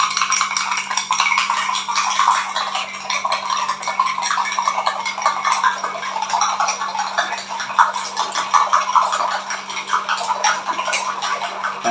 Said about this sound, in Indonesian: Aduk pakai sendok aja.